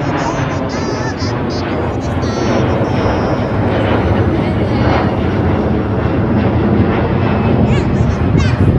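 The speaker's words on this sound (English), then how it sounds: "It's another plane." A fixed-wing airplane passes overhead with a loud, continuous broadband engine roar that holds steady and swells slightly toward the end, with no other sounds standing out.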